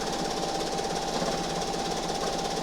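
A sewing machine quilts over layered t-shirt fabric with a dense, steady, rapid mechanical chatter that runs continuously, close and moderately loud.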